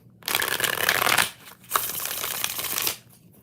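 Tarot cards being shuffled in two quick bursts, a dense papery riffle about a second long, a short pause, then another longer riffle, close and clear with no talking.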